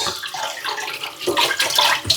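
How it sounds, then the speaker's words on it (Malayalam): Water runs and splashes steadily from a tap close by, with brief sloshing bursts as fish is rinsed under the stream. "അപ്പൊ അങ്ങനെ മീൻ കഴുകിക്കൊണ്ടിരിക്കുകയാണ്"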